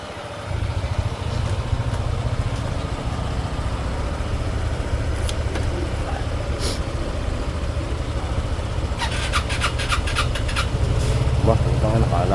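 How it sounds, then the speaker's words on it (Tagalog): Several motorcycle engines idle and warm up on a cold morning before a group ride in Baguio, a continuous loud low rumble with occasional revving and mechanical ticking, close by. "Nagpapainit na sila ng motor, oh."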